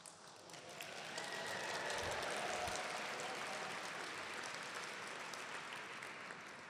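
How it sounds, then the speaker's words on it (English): Guests at a formal dinner honoring award laureates break into a sustained, even round of applause that swells in and stays steady and full, heard at a moderate distance with no speech over it. "My notes say to pause there because people will probably applaud."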